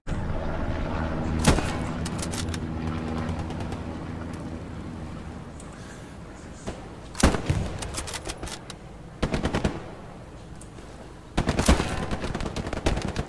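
Video game gunfire with bullets striking enemy soldiers' helmets for headshots: loud bursts of rapid automatic fire and single sharp cracks in separate clusters, with a dense rumbling battle bed between them.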